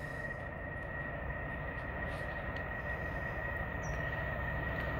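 A Kronospan freight train rolls through Chirk at a steady distance, a constant rumble of wagons with a faint high wheel tone held throughout and no voices.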